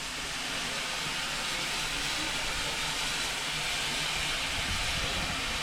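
GWR Pannier Tank 7754, a steam locomotive, running on a heritage railway, giving a steady loud hiss and rumble that holds throughout with no pauses.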